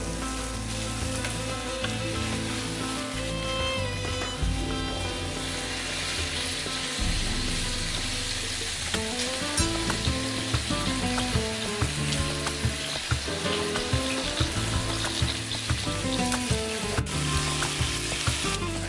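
Marinated shrimp and carne asada for tacos sizzle steadily in a frying pan, a dense, continuous crackle that holds loud and close throughout with no talking.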